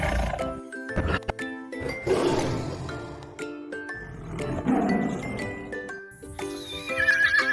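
Horses whinny in loud, shrill neighs, several calls rising and falling, with hoof clatter and other animal sounds mixed in.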